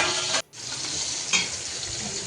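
Fish fry in a pan of hot oil with a loud, continuous close sizzle that cuts out for a moment and then resumes evenly.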